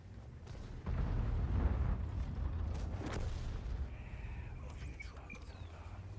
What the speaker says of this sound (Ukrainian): Знову арта нас дамажить, ми в оглушенні стоїмо